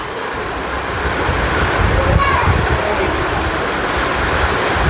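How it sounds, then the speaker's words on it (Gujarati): Heavy monsoon rain pours steadily over an open field of standing sesame in rural Gujarat, a dense, unbroken roaring hiss that swells slightly midway and stays loud throughout with no voices. "વરસાદ થઈ ગયો ચાલુ"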